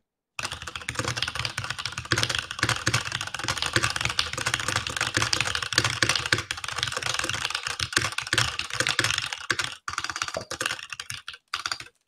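Rapid typing on a computer keyboard during a Typeracer race, a dense, fast stream of close clicking keystrokes with brief pauses near the end.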